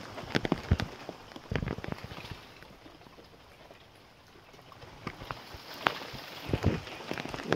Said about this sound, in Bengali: এই বৃষ্টি থামবে বলে মনে হচ্ছে না আমার